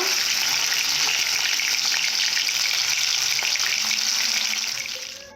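Fish sizzling in plain hot oil, an even close crackling hiss that holds steady and then fades out at the very end.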